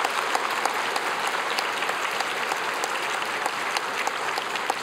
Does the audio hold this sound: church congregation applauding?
yes